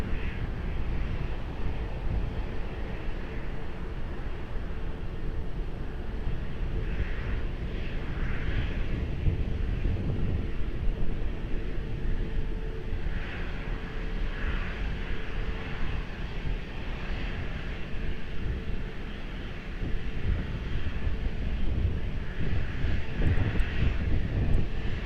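An airliner's engines roar in a steady, loud wash as it lands on runway 20 at Lisbon Airport, the sound holding broad and continuous for the full span.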